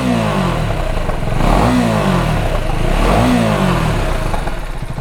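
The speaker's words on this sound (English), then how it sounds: "let's just hear the exhaust note too" A Husqvarna Vitpilen 250 motorcycle revved in neutral, its exhaust note rising and falling in two loud, close blips over a steady idle with no talking.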